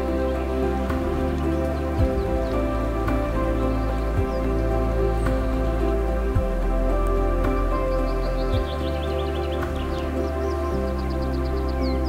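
Steady rain patters on surfaces, with a constant low hum underneath and faint bird chirps in the background.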